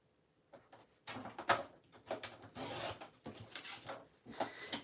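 Fabric strips being cut in a series of short rasping strokes, close and moderately quiet, each cut a brief burst separated by small pauses.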